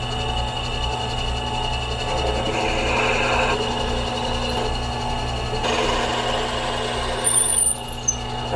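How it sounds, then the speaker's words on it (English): A power drill whirs steadily against a low motor hum, the pitch shifting as it bites into wood while drilling holes for tool handles, then it winds down near the end. "so now we're going to drill some holes for the shafts of our tools"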